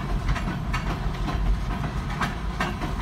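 A W&W freight train rolls past close by, its railcar wheels clattering in a steady clickety-clack rhythm over a loud, continuous rumble, with no voices.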